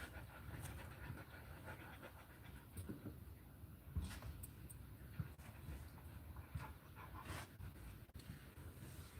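Two dogs pant steadily inside a car, a Lab Pit Terrier mix and a Rottweiler Boxer mix, with quick rhythmic breaths close by over a low road rumble and a few faint whimpers.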